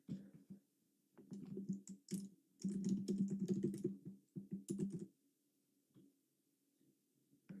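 Quiet computer keyboard typing to log in, irregular bursts of quick key clicks separated by short pauses, then trailing off into near silence.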